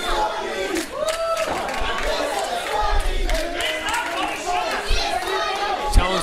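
Wrestling crowd at an independent show, a continuous roar of shouting and cheering voices, loud and close throughout, with scattered yells rising above it.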